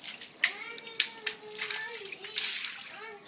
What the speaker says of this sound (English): My son in the background is thinking it's just fun to play in the water.